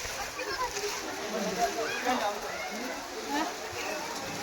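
Rainwater splashes and sloshes steadily at a temple during a downpour, a close, continuous wet patter with a person speaking over it.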